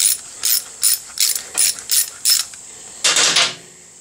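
A ratchet clicks in short, rapid bursts, about seven quick strokes and then a longer one, loosening a pad pin on the front brake caliper of a Honda Africa Twin motorcycle. The sound is close and crisp, and no one speaks.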